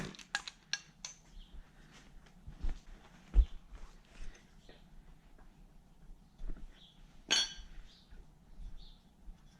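Light metallic clinks and taps ring out close and sparse as cam pulleys are removed from a Lexus LS400 engine, with occasional thuds and one sharper metallic ring partway through, in a quiet workshop.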